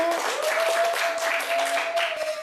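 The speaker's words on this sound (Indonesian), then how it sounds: "Boleh tepuk tangannya dulu." Studio audience applauding a guest's arrival, steady dense clapping throughout with a faint tone running underneath.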